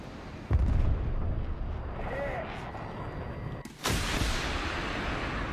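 Missile launches in War Thunder's ground combat, a heavy boom up close followed by rumbling, then a second sharp blast with a roaring rush, under faint game background noise.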